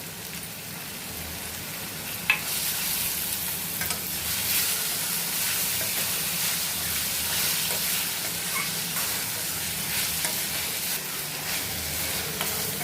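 Ginger garlic paste and onions frying in a pan, a loud, dense, steady sizzle with occasional stirring scrapes and one sharp clink, close up and continuous with no talking.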